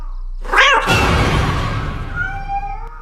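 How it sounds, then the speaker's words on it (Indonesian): A single drawn-out meow from a black cat rises and falls, loud and close, followed by a quieter tonal tail. "Dan ternyata itu hanya kucing hitam."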